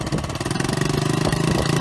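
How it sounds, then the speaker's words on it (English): A small air-cooled Honda outboard motor on a charter yacht runs close by with a steady, throbbing rev as the throttle rises to engage the propeller. "As I increase the revs, it"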